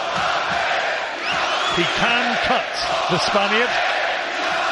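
A Bilbao boxing crowd roars and chants in a sustained, loud wash of cheering at a fight against a Spanish boxer, with rhythmic shouted calls rising through the noise and a commentator talking over it.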